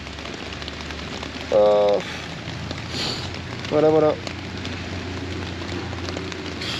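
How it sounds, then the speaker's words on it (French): Rain patters steadily on a camping tent in the morning, a dense continuous hiss close around the listener, with someone briefly speaking and faint tonal bursts rising over the downpour. "Il a commencé à pleuvoir vers 6h30."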